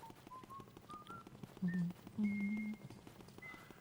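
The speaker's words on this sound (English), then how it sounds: "currently you hear Luigi humming, or wait, no more, I mean whistling the tune. The main Luigi's Mansion theme" Luigi whistles the main theme tune in the video game Luigi's Mansion, a sequence of clear melodic notes. Some notes are short and some are held, and they sound over soft game background noise.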